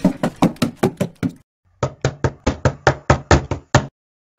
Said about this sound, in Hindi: बार बार नॉक किया, लेकिन कोई भी अंदर से जवाब नहीं दे रहा था।